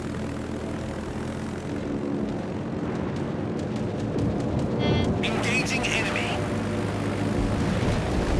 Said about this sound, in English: Fighter airborne.